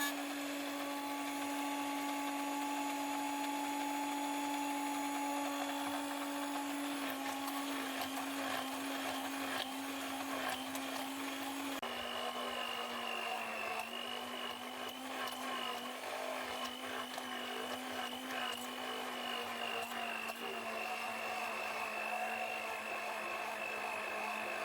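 An immersion blender whips oil, added little by little, into a homemade cream, giving a continuous high motor whine that shifts pitch a couple of times as the mixture thickens, steady and close.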